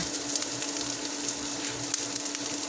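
Garlic browning in a pan makes a steady, dense sizzle with small crackles popping through. It sounds close and even, with no talking.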